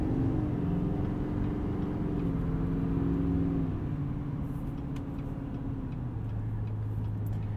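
A 2020 Chevy Silverado 2500 Duramax truck driving unladen on the road, its steady low engine and road drone continuous and close from the cab, with no talk.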